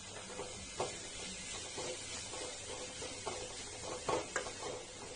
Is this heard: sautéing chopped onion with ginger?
yes